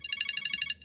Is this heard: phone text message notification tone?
yes